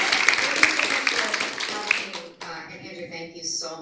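An audience at a public forum on the future of elections gives a welcoming round of applause, dense close clapping that fades out midway, followed by a voice speaking.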